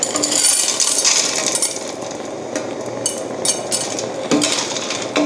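A spoon scrapes and clinks around a metal pot of Hong Kong-style braised beef sauce, with fermented soybean paste and rock sugar just added, giving steady, close clattering stirs with no talking.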